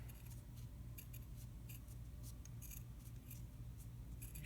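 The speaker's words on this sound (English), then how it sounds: "It does help to have leather scissors for cutting leather" Leather scissors cut leather for an uilleann pipe valve, giving a steady run of crisp, rhythmic snips up close over a constant background hum, with no talking.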